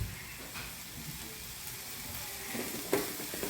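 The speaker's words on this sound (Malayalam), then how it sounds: "നമ്മൾ നാളികേരം വറുക്കാൻ പോവാണ് കേട്ടാ" Coconut, ginger, garlic and curry leaves fry in a pan with a steady, moderate sizzle, a slightly louder crackle near the end.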